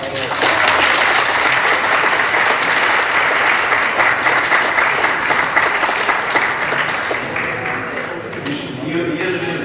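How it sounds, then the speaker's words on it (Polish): A hall audience at a political meeting about election fraud breaks into dense, loud, sustained applause that continues steadily before fading away at the end. "brawa"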